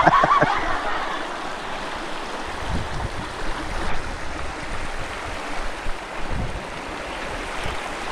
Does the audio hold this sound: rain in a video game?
no